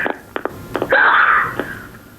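At a school board meeting, a single sharp sneeze bursts out near a few short, soft sounds before it, then trails off.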